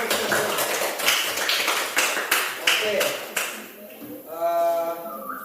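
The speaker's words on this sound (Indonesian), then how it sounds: "Give applause for all. Tepuk tangan dulu." A classroom of students claps for several seconds, bursts of hand claps in an uneven rhythm, before the applause fades and a voice speaks.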